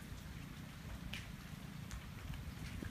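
Steady rain falls outdoors at a rural garden home in Khon Kaen, Thailand, a soft continuous patter with low rumbling noise underneath and no one speaking.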